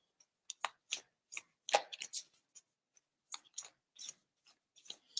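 Oracle cards being shuffled close by, giving a string of short, crisp papery riffles and snaps in an irregular rhythm, with no voices.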